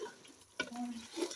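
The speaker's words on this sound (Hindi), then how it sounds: "अब सारे मसालों को हम चिकन के अंदर ऐड कर देंगे और अच्छी तरह से मिक्स करते हैं" Spices being stirred and roasted with chicken in a pan for matar gosht: quiet sizzling under a sharp metallic scrape of the spoon, then soft frying, close by and without talk.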